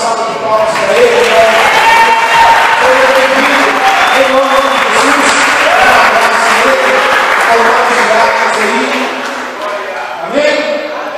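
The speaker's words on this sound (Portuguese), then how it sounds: "vamos dar uma salva de palmas para ele." Church congregation in Belo Horizonte gives a loud, sustained round of applause for a brother, clapping blended with voices, music and crowd noise, easing slightly toward the end.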